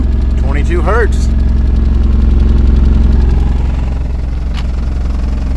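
Deep, heavy 22 Hz subwoofer bass rumble fills a car while its panels buzz and rattle continuously; a brief voice or whoop rises over it early on.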